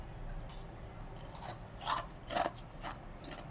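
Crunchy fried onion sticks snapped and bitten, four sharp crisp crunches spaced about half a second apart, close and fairly loud over a quiet background.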